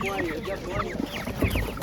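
Broiler chickens cluck at an outdoor market in Otyniia, Ukraine, with a brief burst of overlapping close clucks and squawks and some low background noise.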